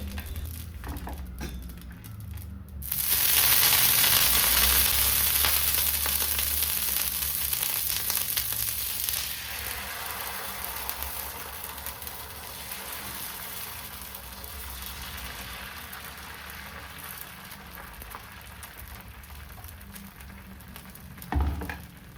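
Steady sizzling of dosa batter cooking on a hot griddle, with a brighter hiss swelling after a few seconds and fading gradually, a clack near the end.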